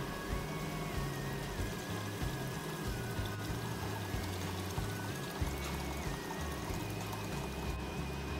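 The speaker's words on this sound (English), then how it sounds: "Fill the pot with water, turn on high heat until it reaches rapid boiling." A steady, continuous stream of water pours into a cooking pot, close and even, filling the space with a constant splashing rush for several seconds.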